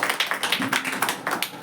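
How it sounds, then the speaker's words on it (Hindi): Congregation in a church clapping hands together in a steady rhythm, a dense series of sharp claps repeating about every fifth of a second, moderately close and without voices. "हम लोग ताली मारेंगे"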